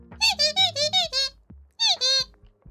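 A voice imitates a squeaky toy with a run of six long, high, wavering squeaks, a pause with a soft click, then two more, close and clear.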